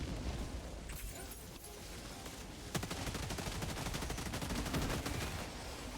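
Las-16 Sickle laser rifle fire in Helldivers 2 against Terminids, a dense continuous crackling stream of shots with bursts and explosions, loud and sustained throughout.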